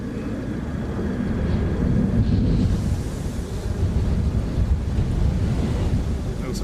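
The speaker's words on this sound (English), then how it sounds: "I also have the wind at my back" Strong wind roars steadily across an outdoor aircraft viewing spot at Dublin Airport, a loud, continuous rushing buffet that fills the whole stretch with gusty surges and no pauses.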